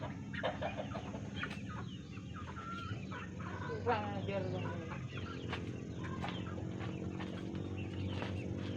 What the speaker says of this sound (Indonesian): Oke, sedikit ada gangguan si ayam masuk stroberi.